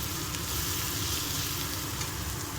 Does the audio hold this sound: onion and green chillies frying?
yes